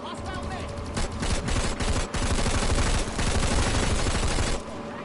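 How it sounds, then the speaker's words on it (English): Planetside 2 video game gunfire rattles in dense automatic bursts, loud and close, with brief pauses between volleys before a sustained stretch of rapid fire. "Why are you shooting at me?"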